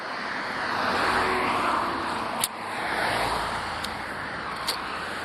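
Fast traffic sweeps past on a wide multi-lane suburban road in Mississauga, a continuous broad rushing swell of tyres and engines rising and falling as vehicles pass, with a few brief sharp ticks; no talking.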